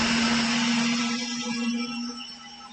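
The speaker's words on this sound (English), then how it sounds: "Waiting for the blender." A blender runs steadily, mashing pumpkin seeds (pepitas) in a home kitchen, its motor holding a constant high whine that eases slightly near the end, loud and close with no talk.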